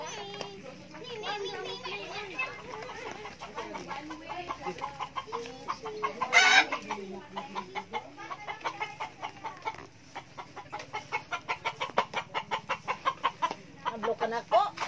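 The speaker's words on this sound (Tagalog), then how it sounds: "Mga manok sa probinsya." Chickens cluck and call in a provincial yard in the Philippines, with rapid rhythmic clucking bursts, while children talk and play nearby.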